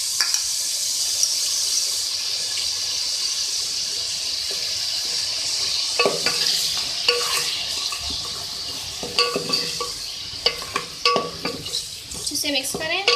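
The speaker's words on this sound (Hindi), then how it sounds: "इसे मिक्स करें और फ्राई कर लें।" Beef coated in ginger garlic paste stirred and fried in a pan for a beef masala: a steady, close sizzle runs throughout, with spatula scrapes and knocks against the pot growing more frequent toward the end.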